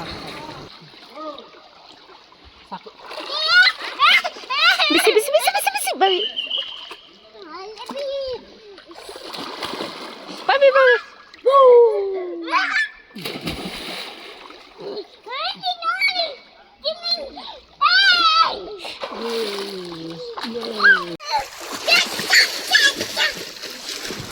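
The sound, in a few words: child splashing and playing in pool water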